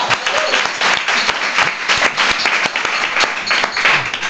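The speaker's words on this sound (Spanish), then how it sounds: "Eso se merece otro aplauso." Lively applause from a studio audience during a Spanish radio show recording, close, dense clapping with a few voices mixed in, lasting several seconds.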